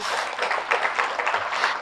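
Audience applause at a spiritual meditation talk, a brisk, even patter of many hands clapping close by for about two seconds.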